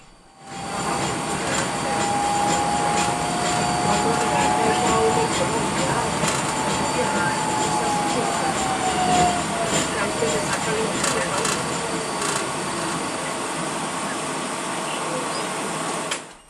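Ride aboard a Portland Streetcar on the NS Line, a loud steady rumble of wheels and motor with a long whining tone rising and fading partway through, and no clear talk.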